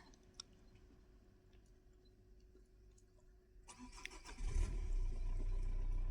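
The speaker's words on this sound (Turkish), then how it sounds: "Yukarıdan gelen bir araç sesi de var sanki. Hafif çok uzakta." A vehicle engine drones on a snowy road, faint and far off at first, then swelling loud and close in the last couple of seconds.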